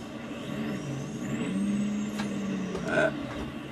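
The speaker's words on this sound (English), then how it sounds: "Trailer brakes." A semi truck pulling a trailer in low gear as the trailer brakes engage, engine droning under a brief air hiss and a rising whine, with someone talking over it.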